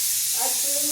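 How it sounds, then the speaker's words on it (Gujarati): Pressure cooker whistle releasing steam in a home kitchen, a steady loud hiss with a rising whistle tone emerging partway through and holding to the end. "એક બાજુ કુકરમાં સીટીયું થાય,"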